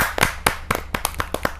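A small kavi sammelan audience claps in sparse, irregular bursts, a handful of distinct sharp hand claps spread across a short moment, close and moderately loud with no talking.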